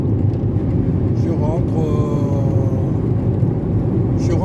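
A Mitsubishi Space Star 1.3L 16V car drives on the road, giving a steady low engine and road rumble throughout. Someone talks over it the whole time.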